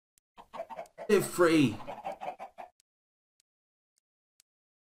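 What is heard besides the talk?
chickens clucking in the video game Minecraft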